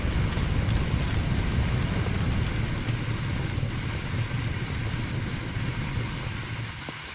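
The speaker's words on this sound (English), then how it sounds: "Spray water by using the indicated button." A fire hose sprays water in a firefighting simulator game, a dense, continuous hissing rush that stays loud and steady, easing slightly toward the end, with no voices over it.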